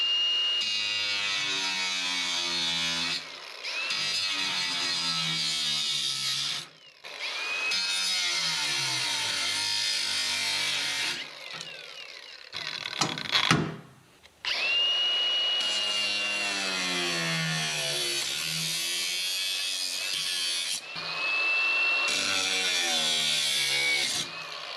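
A power tool whines loudly through cuts into parts for an aluminum radiator shroud for a 1978 Pontiac Firebird, running in long sustained bursts with brief pauses and a short clattering jolt midway.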